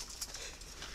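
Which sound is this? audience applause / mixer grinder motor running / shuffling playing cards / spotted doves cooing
spotted doves cooing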